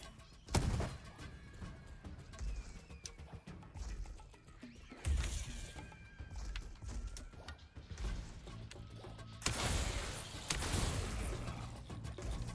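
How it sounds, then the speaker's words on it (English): A thrown grenade goes off in the Fury Unleashed video game, with sharp blasts and crunching impacts among rattling combat noises, loud bursts recurring over roughly twelve seconds of frantic action, no talk. "I did not mean to throw that grenade"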